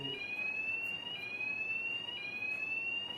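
A fire alarm at an industrial site blares a steady, piercing high-pitched electronic tone, continuous and unbroken, with no other sounds.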